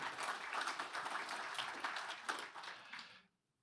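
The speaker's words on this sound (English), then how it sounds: "Let's give them a round of applause and thank you." At a 2025 State of the City event, an audience gives a round of applause for city ambassadors: faint, distant-sounding steady clapping that tapers and stops abruptly, leaving silence.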